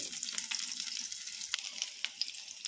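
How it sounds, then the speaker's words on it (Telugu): Eggs fry in hot oil for an egg curry, giving a close, bright sizzle scattered with sharp crackles and pops. "ఇలా అయితే ఫ్రై చేసుకోవాలి ఫ్రెండ్స్"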